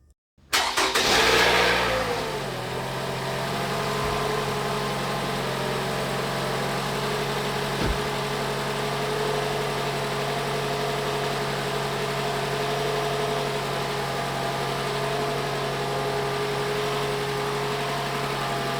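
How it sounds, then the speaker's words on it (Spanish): A car engine fitted with a working MAF sensor cranks and catches within the first second, briefly revs, then settles into a steady, even idle that hums on unchanged to the end, close by with no voices. "voy a arrancar el vehículo"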